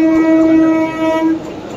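A train near Howrah station rolls slowly to a stop, with a loud, steady tonal whine and rumble close by that fades away partway through, with no voices.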